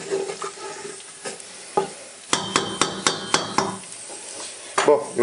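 A pan of pasta sauce sizzles while being deglazed, with a run of sharp, evenly spaced scraping and knocking strokes from a utensil against the pan over a steady frying hiss.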